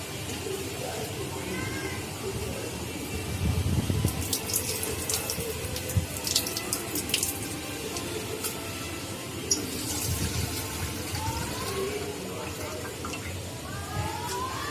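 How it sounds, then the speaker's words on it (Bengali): Rice, lentils, cashews and raisins being washed under a running kitchen tap, a steady stream of splashing water with soft clatter of grains and occasional louder splashes, close to the microphone. "খিচুড়ির চাল আর ডাল আর কাজু আর কিশমিশটা একটু ধুয়ে নেবো"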